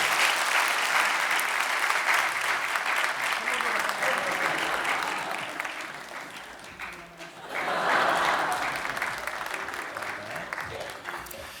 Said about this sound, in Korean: 네, 박수로 한번 격려해 주시면.